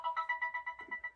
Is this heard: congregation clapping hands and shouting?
no